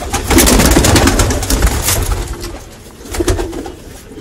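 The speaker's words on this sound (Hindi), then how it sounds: "ये है कबूतर जो पकड़ा है।" A caught pigeon coos in soft repeated bursts close by, with faint background rumble.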